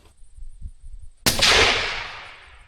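A single rifle gunshot cracks loudly outdoors during a beaver-trapping outing, a sharp onset followed by a long, decaying rumbling echo after a quiet, low ambient lead-in.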